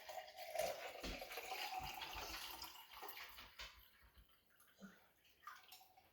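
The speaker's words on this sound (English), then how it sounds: "let's pour a glass to sip along the way" Basil lemonade pours steadily into a glass for several seconds, a soft trickling stream that tapers off near the end.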